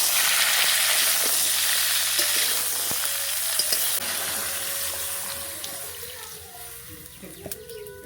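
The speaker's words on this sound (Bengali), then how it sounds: "এই যে ব্রোকলি, আলু, ঢ্যাঁড়স সব দিয়ে দিয়েছি। এবারে একসঙ্গে ভাজা ভাজা হয়ে দিচ্ছি।" Broccoli, potato and okra frying together in a wok, a continuous close sizzle with stirring scrapes throughout, occasional clinks and a faint watery hiss in the background.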